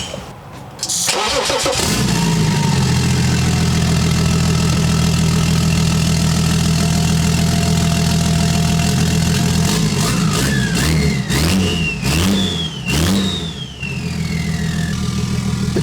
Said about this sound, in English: I'm literally gonna drive there with no exhaust at all because I want to hear what the car sounds like with just the downpipe itself.